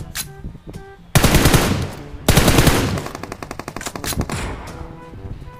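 Automatic gunfire in the mobile shooter PUBG Mobile, set in a warehouse: loud close bursts of machine-gun fire, with dense long strings and rapid repeated shots and no talk.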